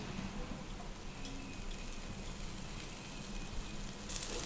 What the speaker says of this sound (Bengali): আমার সেই রসুন হালকা করে ভেজে নিলাম